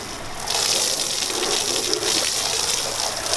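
A garden hose nozzle set to full stream, used to wet a car before washing, bursts on after half a second into a steady, loud hissing gush of water that continues without talk.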